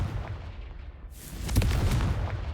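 Confringo fire spell blasts in Hogwarts Legacy, a loud burst of fiery rumble and crackle that swells midway through and roars on in heavy, sustained booms with no voices.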